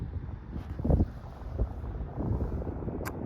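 Strong wind buffets the microphone on a winter bike ride along Lake Winnipeg, a continuous low roaring rumble with irregular gusty swells and thumps.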